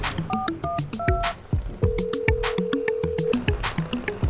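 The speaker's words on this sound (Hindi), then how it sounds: "रिंग हो रही है।" A phone is dialed with a quick run of keypad tones, then a steady ringback tone sounds alone and fairly clearly on the line.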